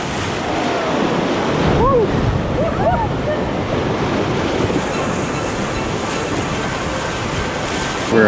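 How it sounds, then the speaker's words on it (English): River water rushing around a float heading toward fast rapids in the jungle near Bukit Lawang, Sumatra: a constant loud wash of water with wind buffeting the microphone, and brief voices early on. "We're approaching some fast rapids right now."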